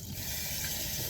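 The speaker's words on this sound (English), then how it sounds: "then you rinse it under water" Running tap water pours steadily over hands being rinsed at a sink during a handwashing demonstration, a continuous broadband rush with no pauses and no voices.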